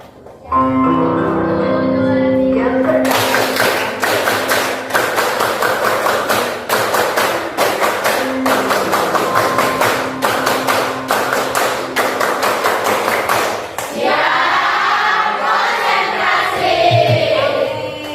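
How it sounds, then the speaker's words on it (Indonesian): An Indonesian classroom performs the rhythmic concentration clap, with many hands beating crisp, patterned claps in unison for about ten seconds, framed by a voice speaking before and chanting voices afterward. "ayo kita tepuk konsentrasi"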